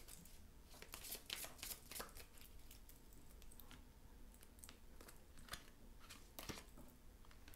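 Oracle card drawn from a deck, crisp papery slides and snaps of cards close by, a few quick shuffling strokes and taps scattered through, alone without talk.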